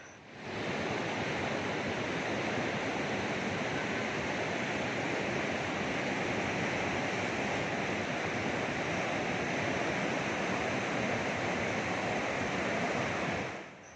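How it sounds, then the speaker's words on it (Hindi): The Lidder river in Pahalgam, Kashmir rushes past in a steady, loud roar of flowing water, constant broadband noise with no voices. "यहाँ की बहती लीडर रिवर का"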